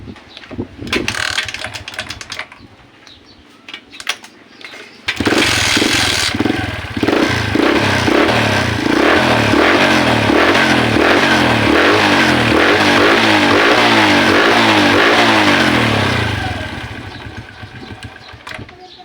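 A Suzuki Smash 115 motorcycle fitted with a replacement 4-pin CDI coughs to life after a few quiet seconds of faint handling noises, then runs with a steady, close, throbbing rhythm that holds and trails off near the end.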